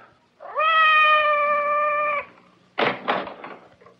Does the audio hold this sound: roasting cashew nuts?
no